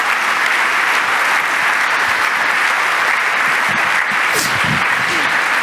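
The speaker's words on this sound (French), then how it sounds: "je pense que vous pouvez applaudir les intervenants de cette table ronde" Loud, dense applause from a conference audience for the speakers of a round-table panel, sustained evenly throughout.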